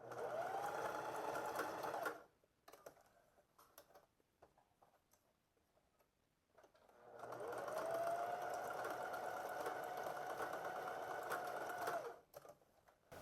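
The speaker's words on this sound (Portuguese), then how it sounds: "Agora vamos fazer uma costura de reforço nesse elástico." A sewing machine stitches a reinforcement seam on the elastic waistband of shorts, running steadily for about two seconds, pausing, then running again for roughly five seconds, a close, even mechanical whir.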